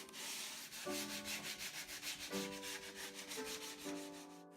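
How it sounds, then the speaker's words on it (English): Repeated back-and-forth sanding strokes rasp across the curved wooden body of a giant music stand in a steady rhythm, close by, with a faint tonal hum underneath. "With just a little bit more sanding, the body of the music stand is now complete."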